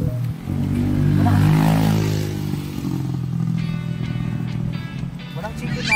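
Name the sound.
motorcycle passing by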